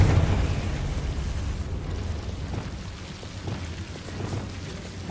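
A fiery Confringo spell blast in Hogwarts Legacy erupts loud at the start and settles into a broad, rumbling roar that lingers with scattered crackles.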